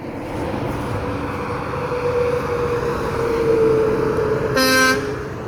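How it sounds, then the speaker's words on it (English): Horn on a Freightliner Cascadia semi truck honks once, a short harmonic blast rising loud near the end over steady road and engine noise from inside the cab. "kind of funny honking my horn"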